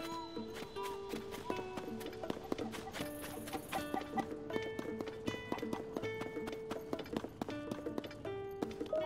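Horse hooves clip-clopping in the video game Zelda: Tears of the Kingdom, a steady rhythmic trot of crisp hoof strikes running the whole way through, layered over soft melodic in-game music with tonal notes.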